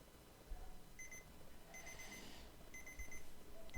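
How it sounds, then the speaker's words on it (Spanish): An electronic alarm beeps in short repeated bursts, faint behind a steady background hum. "por ahí se prendió una alarma que me está haciendo ruido"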